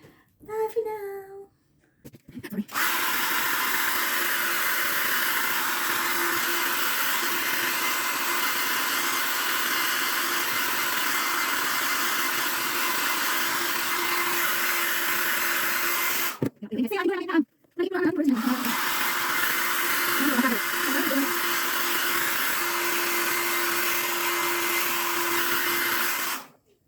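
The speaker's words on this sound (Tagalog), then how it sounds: "gamitin natin yung malakas na blower. Malakas ang ingay." A loud handheld hair blower with a built-in comb roars steadily while drying freshly colored hair at home, with one short break midway and faint voices heard behind the airflow.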